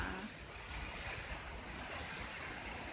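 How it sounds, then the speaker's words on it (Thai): Rain falls with strong wind gusting through trees at a house in the evening, a steady, dense roar of broadband wind-and-water noise throughout, with no voices. "บรรยากาศแบบฝนตกนะคะลมแรง"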